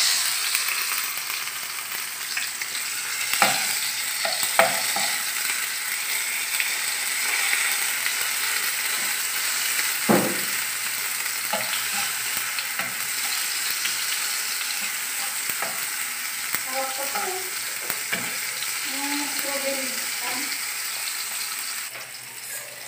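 Tomatoes sizzle and fry in a pan for an adobong takway (water spinach stalks) dish with oyster sauce, a steady close hiss broken by a few sharp utensil scrapes and clacks as they are stirred. No one speaks.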